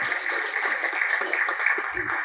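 Steady crowd applause at a film audio launch event, a sustained bright patter of many hands heard slightly distant, with a brief low voice creeping in near the end.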